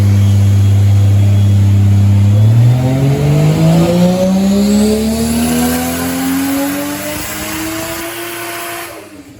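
A turbocharged Toyota Supra MkIV with a 2JZ-GE non-VVTi turbo conversion makes a dyno pull at 15 psi of boost. The loud engine note climbs steadily in pitch through one long rev, then cuts off abruptly at the end.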